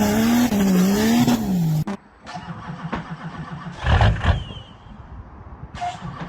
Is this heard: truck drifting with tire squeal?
yes